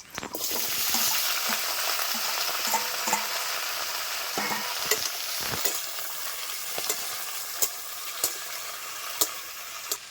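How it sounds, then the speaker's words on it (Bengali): Chopped vegetables, malabar spinach and bottle gourd stems, hit hot oil already seasoned with panch phoron and dried red chilli, giving a loud, close, continuous sizzle broken by stirring scrapes and occasional sharp pops. "পাঁচ ফুরন দিয়ে দিচ্ছি কেটে রাখা সবজিগুলি"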